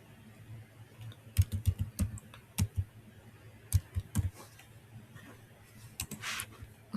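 Typing on a computer keyboard while filling in a phone number on an online application form, close and clicky, with uneven bursts of quick keystrokes separated by short pauses, no talk.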